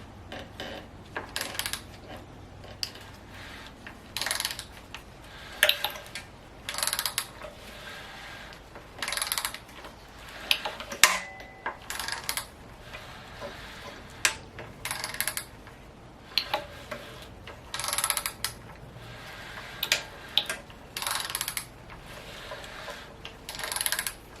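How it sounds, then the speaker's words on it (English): A timing chain tensioner on a TSI engine ratchets out as the engine is turned by hand, giving repeated metallic clicks and clacks in irregular bursts over a quiet background, close and fairly distinct. "your tensioner, you can see it ratcheting out, taking the slack up on the chain"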